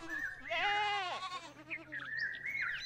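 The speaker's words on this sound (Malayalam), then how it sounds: "ഹാബീൽ തൻ്റെ സമ്പാദ്യത്തിലെ ഏറ്റവും നല്ല ആട്ടിൻകുട്ടിയെ അള്ളാഹുവിനു വേണ്ടി തിരഞ്ഞെടുത്തു." A lamb bleats close by in one long, wavering cry, followed by a few shorter, higher calls over a quiet background.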